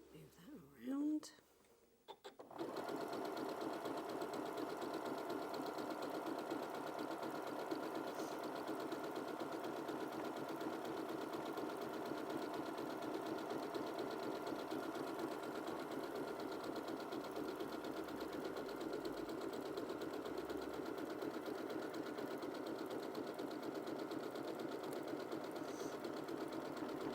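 A sewing machine stitches fabric appliqué, running steadily in a continuous mechanical hum and whir for about 25 seconds after a brief pause at the start, close and fairly quiet.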